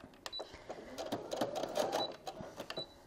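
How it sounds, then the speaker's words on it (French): A sewing machine stitches the last corner of a zipper pouch in short, uneven bursts, with rapid clicking and light mechanical taps at fairly low volume. "Je suis en train de coudre le dernier coin."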